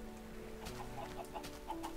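Minecraft chickens clucking in an automated chicken farm, short soft clucks repeating at a steady pace over a constant low game hum.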